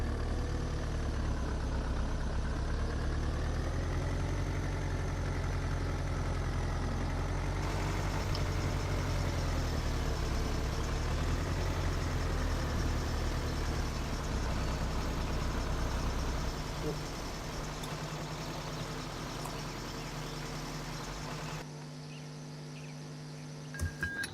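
Tractor engine in the Farming Simulator 2013 game, working a field while spreading manure, drones steadily and fairly loud, its pitch wavering slightly, then drops away near the end.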